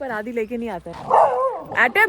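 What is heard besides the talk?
dogs barking on the street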